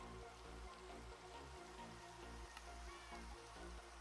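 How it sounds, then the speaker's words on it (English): Rain falls in a video game world, a faint, steady patter of drops on surfaces over a low, continuous background tone. "it's getting dark and rainy"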